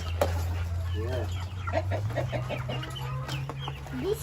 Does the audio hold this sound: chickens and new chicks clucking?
yes